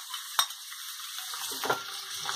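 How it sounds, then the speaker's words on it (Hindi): Chicken pieces fry in a pan while being stirred, a steady hiss of sizzling with a couple of brief scraping stir sounds, close and alone without talk. "चिकन थोड़ी सी फ्राई हो जाएगी"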